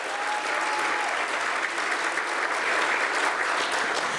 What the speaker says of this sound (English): Let's applaud him again.